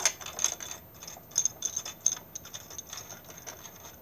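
Small metallic clicks and ratcheting ticks from a screw being turned out of a Kirby Avalir 2 vacuum handle, a quick irregular run of light taps, close and fairly quiet.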